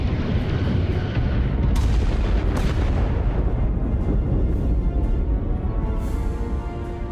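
Starship weapons fire in Star Trek: Resurgence, a loud sustained barrage of booming blasts and rumbling impacts with sharp bursts, close and dense throughout.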